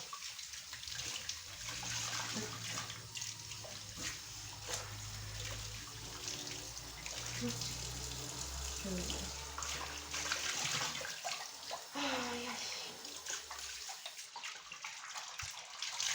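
Water runs steadily while a rug is washed, a continuous splashing flow with a low hum underneath and no talk.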